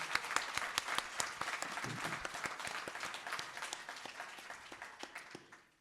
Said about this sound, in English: I think we need another round of applause before we begin.